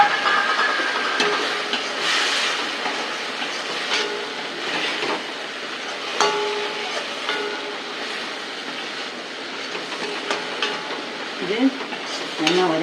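Sambar simmering toward a boil in a pot on the stove, a steady close sizzling and bubbling hiss with occasional stirring knocks, running continuously for several seconds without talk.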